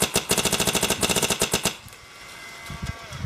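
Paintball markers (Creed, Victory, Cyborg RX) fire a rapid string of sharp popping shots, about twenty in quick rhythmic succession, then a pause with a few scattered softer pops.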